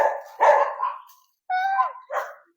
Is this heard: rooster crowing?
no